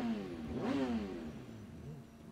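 A motorbike engine in the Sleeping Dogs game revs up and falls back in one rising-and-falling surge, loud and close, with a steady mechanical drone underneath and no talk.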